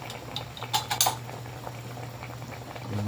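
Fish soup boiling in a covered pot just opened: a steady low bubbling simmer with a few brief clinks of metal lid or utensil near the start, no voices.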